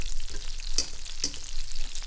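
Breaded chicken breasts sizzle steadily in a frying pan, a continuous close crackle with two brief sharper clicks of tongs as the surface is basted.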